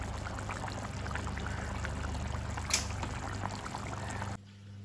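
Water poured into a simmering crab curry during home cooking, a soft continuous splashing pour over steady background hum, ending abruptly near the close.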